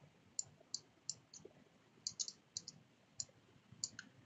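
Light, crisp mouse clicks, about a dozen irregular taps, close and fairly quiet over a soft room hiss, made while working with the Photoshop pen tool.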